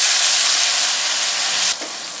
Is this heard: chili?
yes